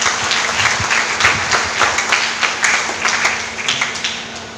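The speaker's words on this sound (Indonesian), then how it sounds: "Tepuk tangan untuk masyarakat Purworejo." An audience at a district Nuzulul Qur'an commemoration bursts into loud, sustained applause, a dense wash of many hands clapping that gradually tapers off toward the end.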